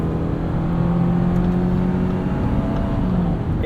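A 2019 Subaru Forester Sport with a CVT accelerates on a night drive, its engine giving a steady droning hum inside the cabin, even and sustained without gear shifts.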